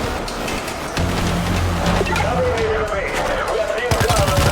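Gunfire in the shooter game World War Z Aftermath: rapid bursts of shots over a dense, noisy battle bed, with players talking over it.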